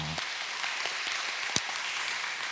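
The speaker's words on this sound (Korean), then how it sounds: "우리 격려하며 우리 한 박수 하도록 하겠습니다" Applause from a congregation at a Friday prayer meeting in a church, steady and moderately loud, with a few sharper claps standing out, heard from a distance in a reverberant room.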